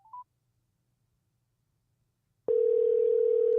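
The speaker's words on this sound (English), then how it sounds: "We might be able to get Jeff on the phone" A short dialing beep, a second of silence, then a steady telephone dial tone begins and holds, clear and alone.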